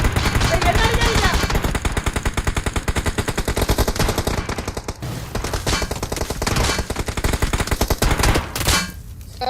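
Rapid automatic gunfire rattles almost nonstop in a BGMI/PUBG Mobile final-zone battle, dense bursts of shots close and loud, pausing briefly near the end, with players talking over the shooting.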